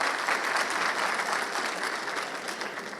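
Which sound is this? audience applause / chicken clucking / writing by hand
audience applause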